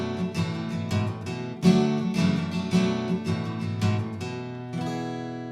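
An acoustic guitar plays the riff of a song with a mix of down and up strums, the chords ringing out in a steady, lilting rhythm, close and clear, with no talking.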